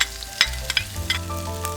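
Minced garlic and ginger stir-fry in hot oil in a wok for a tofu sauce, a continuous sizzle broken by several clanking stirs of the spatula.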